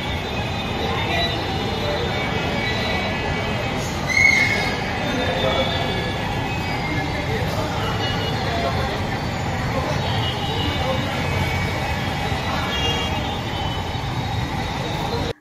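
Hyderabad metro train running, a steady low rumble with broad rolling noise throughout and one brief brighter squeal or tone near the start, with faint voices in the carriage.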